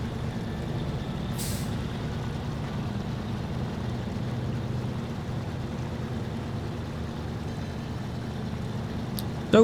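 A heavily loaded truck in the SnowRunner game grinding through mud: a steady low engine drone and drivetrain hum at even loudness throughout, with a brief hiss near the start and a sharp knock at the end.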